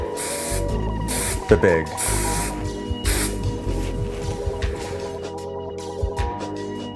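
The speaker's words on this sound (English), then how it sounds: "take a little bit of hairspray and just emphasize" Hairspray misted onto freshly styled wavy hair, several short close hissing bursts in quick succession, with someone talking in the background.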